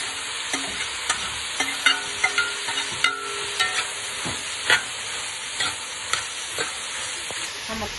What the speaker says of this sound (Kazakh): Нанды да бірге қуырамыз.